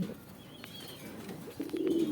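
Racing pigeons at a farm in Gazipur, Dhaka, giving soft low coos close by, with a louder rolling coo near the end over quiet background.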